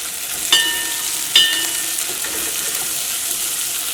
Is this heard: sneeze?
no